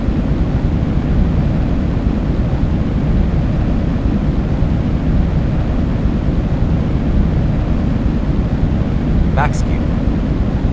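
Rocket launch with eleven of twelve engines lit, a steady, loud, dense broadband roar with no letup throughout.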